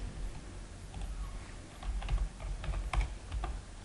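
Quiet, scattered taps on a computer keyboard, irregular keystrokes at close range over a low background hiss, with no voices.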